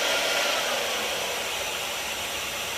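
A GHD hair dryer blowing steadily at full power, a loud, constant rushing whoosh with no pauses.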